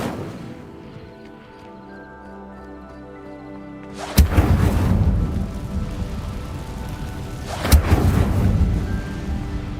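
Casting the Incendio fire spell in Hogwarts Legacy sets off two loud, close, booming bursts about three seconds apart, each trailing into a long, crackling, rumbling roar.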